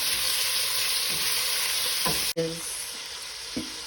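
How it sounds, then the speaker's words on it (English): Thick-sliced bacon fries steadily in a pan, giving a loud, continuous sizzle with a sharp clatter partway through and a few soft stirring scrapes near the end. "you're actually only going to fry this a little, like till it's hot and partially done"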